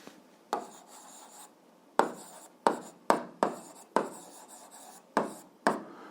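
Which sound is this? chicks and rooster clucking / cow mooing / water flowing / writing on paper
writing on paper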